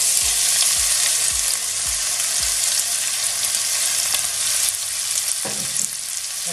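Onions fry with golden-browned garlic in a hot pan for a Bengali fish curry, a loud, dense, continuous sizzle with a series of soft thumps early on and a utensil knock toward the end.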